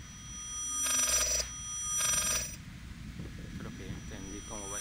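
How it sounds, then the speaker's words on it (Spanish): A telephone rings in the Layers of Fear video game, giving two loud bursts of bell-like ringing about a second apart over a low ambient drone, followed by quieter game sounds. "El teléfono no deja de sonar."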